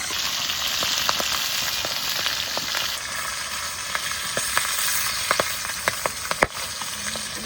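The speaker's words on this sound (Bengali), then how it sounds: "কত সুন্দর মাছগুলো ভাজা হয়েছে, এবার তুলে নেব।" Desi magur fish frying in hot oil, a steady broadband sizzle with scattered sharp pops and crackles throughout, close and fairly loud, no talk.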